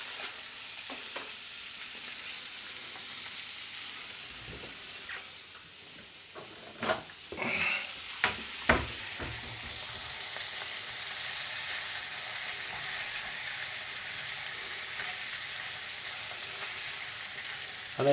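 About six Olde English farmhouse pork sausages fry in a pan with a continuous close sizzle, interrupted midway by a few sharp clatters and pops, with no voices.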